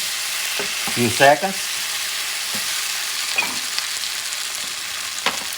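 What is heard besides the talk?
ribs frying and being stirred in stew pot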